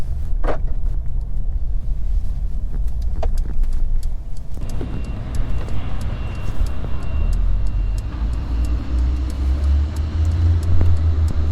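A 2022 Mercedes EQB 300 4matic electric seven-seat SUV pulls away and drives, heard from inside the cabin as a steady low road rumble with faint tire noise and a few small clicks, quiet and with no engine sound.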